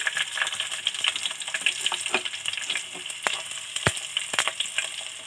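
Ginger and shallots sizzle in hot oil with drumstick leaves for pulissery, a steady crackling hiss broken by sharp clicks and scrapes of stirring.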